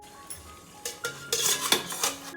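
A metal plate set into a Tamil-kitchen idli steamer pot of boiling water, giving a few close, light clinks and scrapes of metal on metal, the last couple a little louder.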